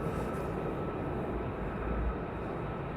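Military jets taxiing at RAF Lakenheath, a continuous low broadband engine rumble heard from a distance, steady and unbroken throughout.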